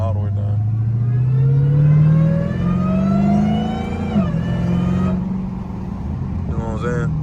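Loud, steady supercharger whine from a 900-horsepower Dodge Hellcat, heard from inside the cabin, rising in pitch as the engine pulls, then dipping and leveling off near the end.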